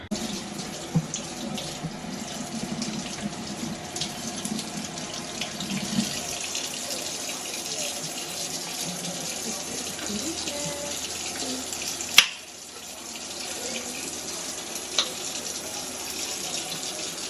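Tap water runs steadily into a sink as dye is rinsed out of hair, a continuous close splashing stream with a brief knock partway through.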